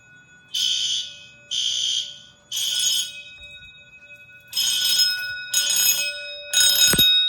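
A fire alarm system sounding during a test: six loud ringing bell blasts, each about half a second, the first three evenly spaced, then a pause before three more in quicker succession, over a faint steady electrical hum.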